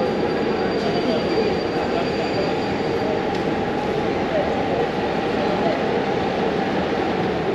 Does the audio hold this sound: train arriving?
yes